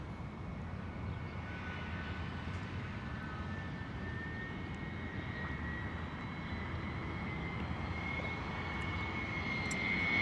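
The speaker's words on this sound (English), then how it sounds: "Delta Airlines from Miami, Airbus A321, here it comes." A Delta Airlines Airbus A321 jet approaches over Queens, New York, a steady engine roar building gradually and growing louder toward the end.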